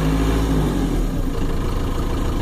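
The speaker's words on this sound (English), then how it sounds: "Now I have the exhaust brake on" A diesel truck engine runs with its exhaust brake engaged, a loud, steady, low rumbling drone close by that holds constant with no talking.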